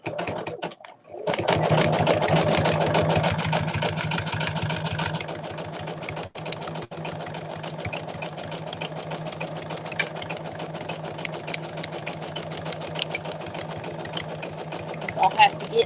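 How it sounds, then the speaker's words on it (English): A sewing machine stitches fabric rope into a bowl, a loud, rapid, steady mechanical chatter that runs continuously close by, with a brief pause early on. "we're going to stop on the sewing this"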